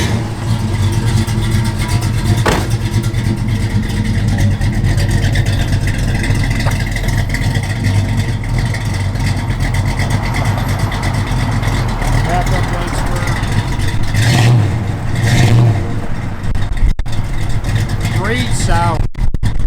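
A 1972 Plymouth Road Runner engine runs steadily under heavy wind noise, a low constant rumble with occasional brief bursts of talk.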